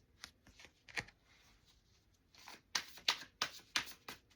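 A deck of tarot cards being shuffled by hand in a quiet room, with brisk riffling bursts and soft card slaps, sparse at first and then quicker and denser toward the end.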